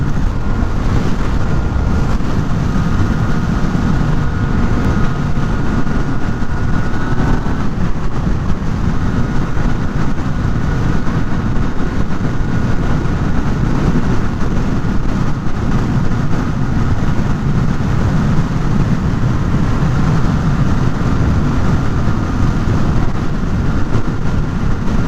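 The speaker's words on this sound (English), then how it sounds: "the wind noise you're hearing is actually the wind going past the side of the helmet" Wind rushes past a motorcycle helmet at speed on a Yamaha FZ09, a constant loud broadband roar with rumbling low buffeting and faint engine drone underneath, unbroken for the whole stretch with no talking.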